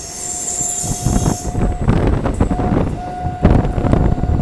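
Passenger train running on the Krishnanagar to Amghata line, a loud continuous rumble of wheels and carriages with rhythmic clatter, intermittent high wheel squeal and wind buffeting the microphone.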